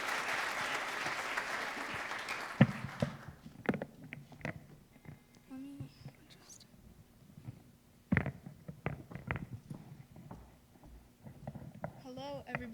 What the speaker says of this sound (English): So let's give her a big round of applause as we get set up.